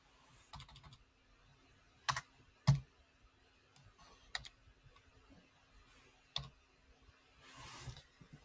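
Someone types on a computer keyboard in a quiet room, making faint, sparse key clicks with a few sharper taps spread through the clip.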